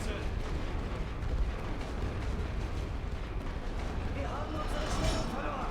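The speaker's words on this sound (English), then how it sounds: "Okay, we'll fire our own artillery now." Artillery fire in the World War I strategy game The Great War: Western Front, heard as a dense, continuous rumble of distant booms and blasts throughout, with no clear pauses between shots.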